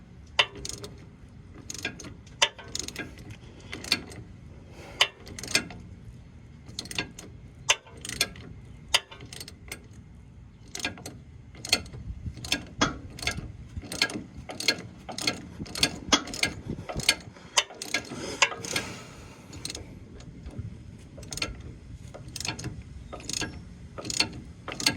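A ratchet wrench and socket slowly tighten a sway bar bushing on a 1997 Ford F-150, giving close, sharp ratchet clicks in quick repeated bursts throughout, with no talking.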